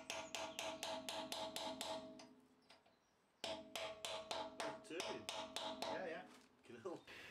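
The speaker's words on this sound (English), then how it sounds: "I then try to knock the bolt loose again using a cold chisel and a hammer." A hammer strikes a cold chisel in quick, regular metallic blows to knock out a drilled wheel bolt, with a short pause midway before the sharp, ringing hits resume up close.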